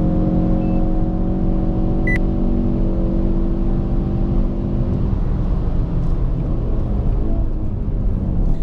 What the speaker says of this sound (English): this is my lap in the Ford Focus RS at the 2016 Car and Driver Lightning Lap